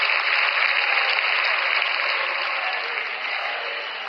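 Audience applause welcoming India's Prime Minister at a public event in Jaipur, Rajasthan: steady, dense clapping from a large crowd that holds level for about four seconds and then eases slightly.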